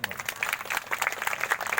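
Brief burst of audience applause at a Basava Seva Pratishthan memorial gathering, dense crowd clapping close and steady throughout, with no speech over it.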